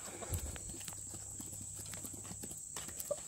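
Chickens scratch and peck eagerly at mealworms, making quick, irregular taps and scuffs close by at a soft level, with a faint high whine running steadily behind.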